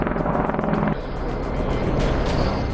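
A military Apache attack helicopter flies nearby, its rotor beating in a loud, rapid, steady throb over rough engine noise.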